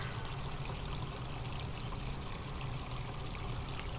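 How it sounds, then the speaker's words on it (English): A submersible pump shoots water through a hose onto lava rock in a bait-tank biofilter, a continuous close splashing pour with a steady, even level and no pauses. "Water shoots on it."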